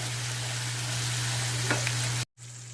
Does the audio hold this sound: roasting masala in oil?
yes